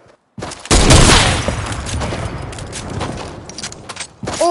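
Rapid automatic gunfire in the video game Call of Duty, a loud dense burst of shots that tapers into scattered cracks and echoes, with a fresh blast at the end.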